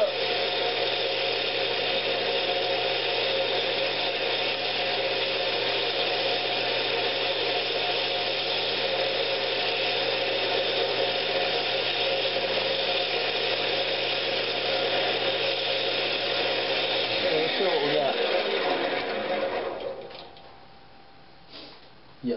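Sandpaper, starting at 220 grit, rubs against a small wooden Christmas ornament spinning on a woodturning lathe. It makes a steady, close whirring hiss for most of the clip, then the lathe winds down and quiets near the end.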